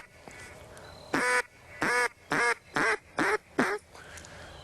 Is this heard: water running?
no